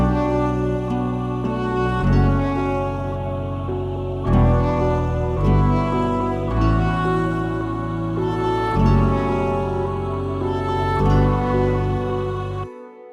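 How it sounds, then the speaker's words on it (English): A flute-like Phase Plant synth melody plays over a full electronic backing track, with sustained tonal notes and a steady pulsing rhythm that changes every couple of seconds before a sudden cutoff. "It's just playing this kind of like fluty sort of synth sound"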